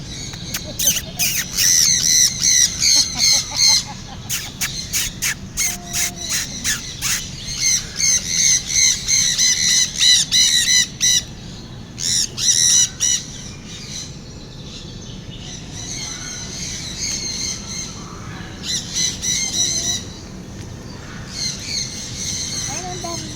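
Loud, rapid squawks and harsh chirps from a flock of budgerigars in an Ocean Park biodome burst in repeated clusters, close by, with quieter stretches of chatter between.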